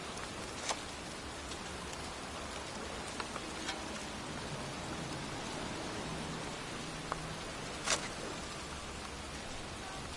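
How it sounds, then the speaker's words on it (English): Steady pouring rain soaks a cemetery in a video game, a dense even hiss running throughout with a few brief sharper spatters, no voices. "And here I am, standing in a cemetery in pouring rain"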